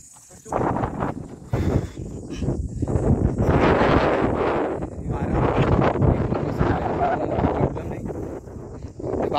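Strong wind buffets the microphone on a hill fort trek at Sarasgad, a steady loud rumbling roar that fills the whole stretch and stays even throughout.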